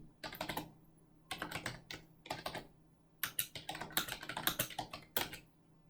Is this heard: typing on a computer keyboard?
yes